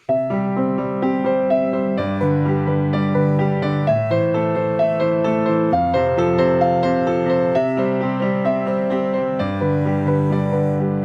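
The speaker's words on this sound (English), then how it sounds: "we have all of this solo piano music out there these days" Solo piano plays a slow repeating 1-5-6-4 chord progression, sustained chords changing every couple of seconds with a gentle melody on top, clear and close.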